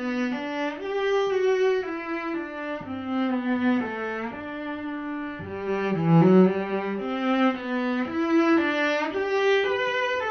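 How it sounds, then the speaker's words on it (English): A single cello plays the first cello part of a chamber music piece, a slow bowed melody of sustained notes moving stepwise, close and clear with no other instruments or voices. "So I'm going to play a little bit just of the first cello part"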